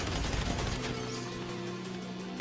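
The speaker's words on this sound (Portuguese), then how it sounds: "De vez em quando tem que dar um tiro pra poder animar os caras." Gunfire in GTA V Online, a quick burst of shots up front that settles into a lingering in-game rumble, with no talk.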